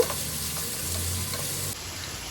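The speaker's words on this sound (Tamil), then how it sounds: "வெங்காயத்தை நல்லா பொன்னிறமாக ஆற வரைக்கும் நல்லா வதக்கிக்கோங்க." Chopped onions frying with spices in a pan for mutton masala, a steady loud sizzle with light stirring, close up and continuous, no voices.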